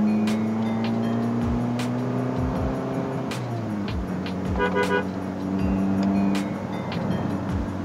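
Suzuki All New Swift 2013 with a K14B 1.4-litre engine and modified exhaust, revved in bursts; loud, close engine roar rising and falling over several seconds, with traffic noise and a car horn sounding in the background.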